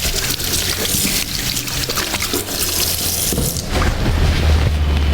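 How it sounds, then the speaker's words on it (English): Tap water runs steadily into a kitchen sink while hands are rinsed during home cooking, a continuous close splashing rush that swells slightly louder toward the end, with no talking. "Just rinse my hands."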